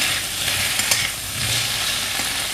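Taro root pieces frying in a pan of hot oil, a loud, steady sizzle with a few bursts of crackling, close up and uninterrupted.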